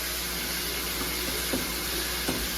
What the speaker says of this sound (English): we're only going to saute them until our onions become translucent